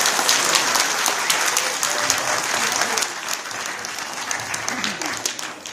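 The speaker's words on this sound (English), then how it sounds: "Let's give her a round of applause." Audience applauding at a school award ceremony for the second place winner, steady dense clapping throughout that eases slightly toward the end.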